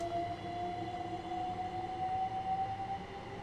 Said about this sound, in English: Seems like that train's going.